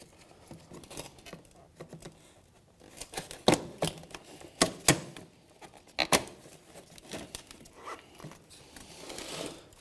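Plastic grille retaining clips on a 2007-2013 Mitsubishi Outlander front bumper being pried open with a flathead screwdriver, giving sharp irregular clicks and snaps, close and fairly quiet.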